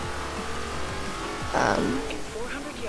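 A car engine drones steadily in Forza Horizon 2 as the car drives through a field on a dark, rainy course, rising into a brief tire squeal and rev near the end, under talk.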